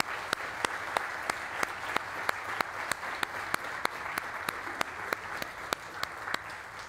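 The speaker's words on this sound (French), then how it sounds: "J'aimerais ça qu'on les applaudisse, s'il vous plaît" A crowd at a community celebration applauds steadily, with dense clapping and a few sharp individual claps standing out, moderately close and sustained throughout.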